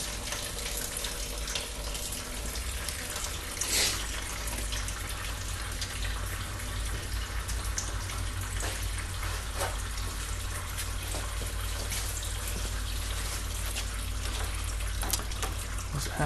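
Coolant draining steadily from the engine of a 2000 Subaru Outback under repair, a continuous close watery trickle and splash with no pauses and no talk over it.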